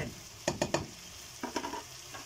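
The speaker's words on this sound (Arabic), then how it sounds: "نقلب بقى ده كله في قلب بعضه كده." Sautéed vegetables and washed yellow lentils stirred together in a pot for lentil soup, a few close scraping stirs with soft sizzling underneath, no voices.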